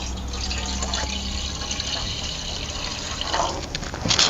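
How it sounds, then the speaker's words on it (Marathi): Water poured into a vessel holding extracted juice for panipuri water, a steady liquid fill running throughout at moderate level and swelling near the end, with faint speech in the background. "तर आपण यामध्ये ना पाणी घालूया"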